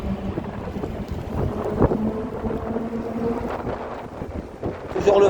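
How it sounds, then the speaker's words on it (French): Wind rushes over the microphone while cycling through Paris near the Pont de l'Alma at rush hour, a moderate steady whoosh with low rumble and faint traffic underneath. "baissez le son, mais il y a du vent."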